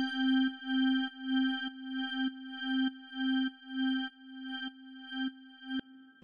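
A steady synth tone pumps rhythmically under sidechain compression from a Tube-Tech CL 1B in Ableton, its volume ducking and swelling in a regular pattern about twice per second, clean with no voices.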